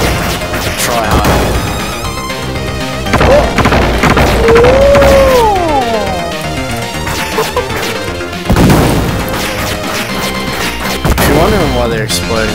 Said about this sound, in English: they're exploding, they're actually robots